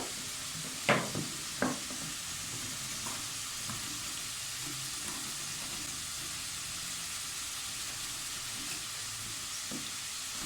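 Carrot chicken soup in a pot gets a few quick scrapes of a spoon at the start, then settles into a steady, faint simmering hiss.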